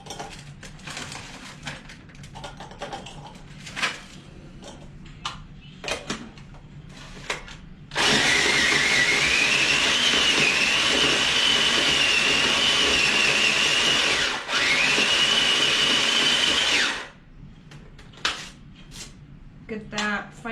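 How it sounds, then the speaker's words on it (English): A food processor finely chopping Oreo cookies whirs loudly and steadily for about nine seconds with a brief dip midway, following quiet kitchen clatter and a voice speaking. "we're going to use the food processor here"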